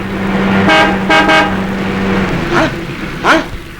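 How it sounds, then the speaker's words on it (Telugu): Several car horn honks sound out, two short toots followed by a longer blare, then a couple more beeps over steady road traffic noise. "హార్న్ కొడుతుంటే వినపడల్లా"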